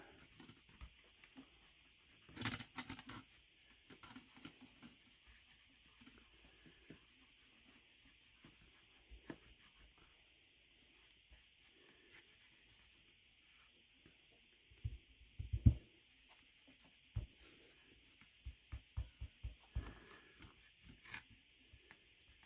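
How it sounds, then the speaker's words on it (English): Wax being rubbed by hand into a wet-formed leather side-draw knife sheath, giving quiet, soft rubbing strokes with a few sharper scuffs and taps, close up with no talking. "Throw some of this wax on here. Get it worked in good there."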